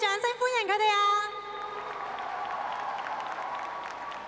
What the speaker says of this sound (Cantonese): 大家可唔可以俾大聲啲嘅掌聲歡迎佢哋啊？